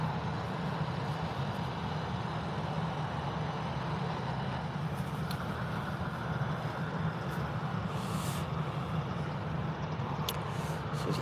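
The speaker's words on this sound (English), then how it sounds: "we've got Eurowings from Dusseldorf coming in as we speak" A Eurowings airliner from Dusseldorf comes in to land at Birmingham airport, its engines a continuous, even roar of broadband noise that stays steady throughout, with no talk over it.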